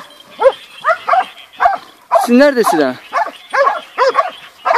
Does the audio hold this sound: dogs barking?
yes